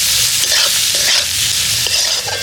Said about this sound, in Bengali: এবার ভালো করে নেড়ে চেড়ে মশলাটা কষাবো।